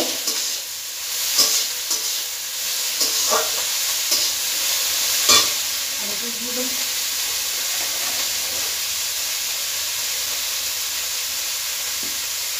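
Onion sizzles in a hot pan with ginger and garlic paste, a steady frying hiss under a few sharp stirring scrapes of a spoon against the metal, close and fairly loud with no talk.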